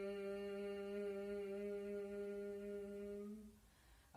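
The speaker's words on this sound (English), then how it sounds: "exhale through the nose, but we're going to make a humming sound like this" A person hums steadily while breathing out through the nose during a yoga breathing practice, producing one soft, even, sustained tone that fades after about three and a half seconds. The hum is close and quiet, with no talk.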